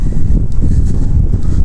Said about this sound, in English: Oh, but it really is windy. It is uncomfortably windy.